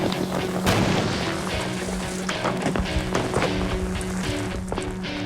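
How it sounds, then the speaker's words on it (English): A sudden boom of ice exploding, set off with liquid nitrogen, followed by rumbling and scattered clattering debris, fairly loud, with no voices. "I'd say that was an explosion."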